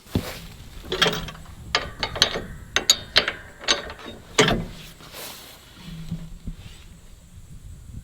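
Cutting deck height is adjusted on a battery-powered Toro Grandstand Revolution zero-turn mower, giving a run of sharp, close ratcheting clicks that come in uneven bursts, with no voices.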